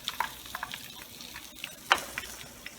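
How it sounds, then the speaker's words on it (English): Fish and shrimp frying in hot grease in a home kitchen give a steady crackling sizzle with scattered sharper pops and spatters, close and moderately loud. "So now I'm about to fry this other piece, and I'm about to drop down some shrimp with it."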